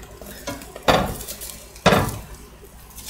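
Cream cheese pancakes being flipped in a pan: two distinct clanking hits of utensil against the pan about a second apart, over a faint background hiss.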